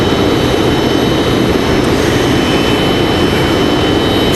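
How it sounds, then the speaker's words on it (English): Frontier Airbus A321neo jet arriving at Raleigh Durham airport, a loud, constant jet roar heard close and unbroken, with no talking. "Frontier 3330 coming in from Dallas Fort Worth. It's going to be another A321neo."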